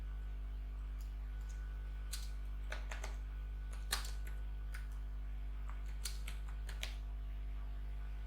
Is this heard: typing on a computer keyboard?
yes